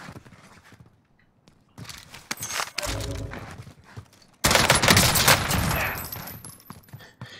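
A DMR 14 rifle in Warzone fires in short, spaced taps, starting quiet and sparse, then growing into louder clustered shots with a sharp, heavy burst near the end.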